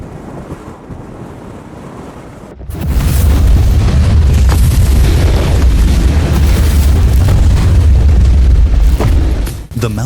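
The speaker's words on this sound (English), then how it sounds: "The mountain exploded," A mountain blasts apart as rocks and soil rush down in a disaster, with a quieter rumble giving way to a sudden, sustained, loud roaring wash of deep, continuous noise that holds steady before briefly dropping near the end.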